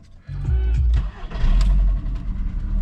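An MK3 Jetta VR6 wagon low on fuel cranks with a brief starter whir, catches and then settles into a loud, close idle with slight revving.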